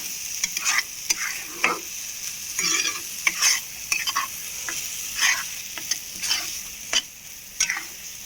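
A spicy Andhra egg paste curry is stirred in a pan, with repeated scraping strokes over a steady background sizzle of frying, close and moderately loud, with no talking.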